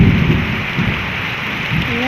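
Steady rain falls on a wet afternoon, water pooling in front of a house, a dense continuous hiss with low rumbling swells underneath and no voices.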